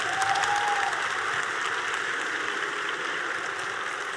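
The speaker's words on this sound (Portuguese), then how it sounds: "uma salva de palmas também por toda a tradução" A conference audience applauds steadily and thickly for several seconds, a continuous wash of clapping hands at close range with no talk over it.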